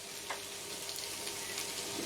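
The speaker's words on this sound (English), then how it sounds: "I find it weird looking at milk being put in a frying pan." Steady sizzle and crackle of a frying pan as milk is poured in while making chocolate chip cookies, a continuous hiss with small pops throughout, close and fairly quiet.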